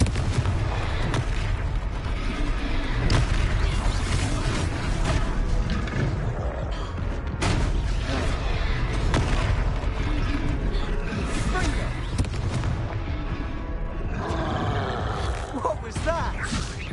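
Confringo blasting-spell explosions in the Hogwarts Legacy video game, repeated booming blasts and crackling impacts layered with game music and effects, with voices speaking over the action.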